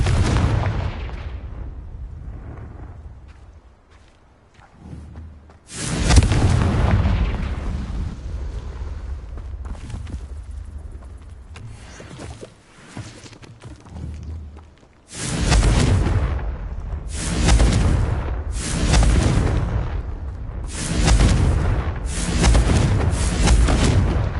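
Confringo blasting-spell explosions in Hogwarts Legacy, a series of loud, booming bursts, one big blast followed by a quieter lull, then several more heavy explosions in quick succession, no talking.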